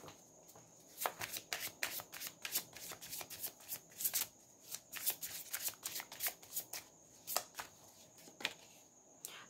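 Tarot cards get shuffled close up in quick riffling bursts, a rapid crisp flutter of snaps and slides repeating rhythmically at a soft level with no talking.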